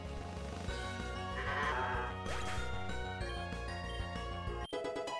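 A sheep Pokémon's cry in the Pokémon Uranium video game, a short electronic bleat over steady game music with chiming tones, loud and close with no voices.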